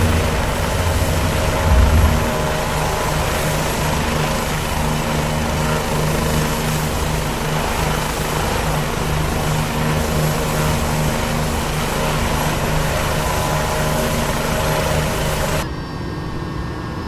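A Bell 429 helicopter in cruise flight inside the X-Plane 11 simulator, its rotor and turbine drone steady and loud throughout without a break, then dropping in level near the very end, with no talking.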